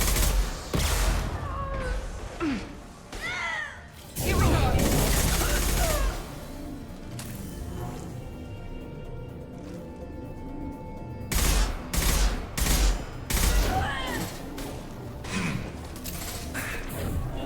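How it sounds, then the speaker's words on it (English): Rapid bursts of automatic gunfire and heavy impacts ring out during combat in the video game Mass Effect 2, loud and close, in clustered volleys separated by quieter stretches. "Firing a high impact shot."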